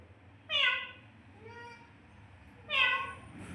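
A cat meows twice nearby, two clear, drawn-out cries separated by a short pause, with a fainter mew between them.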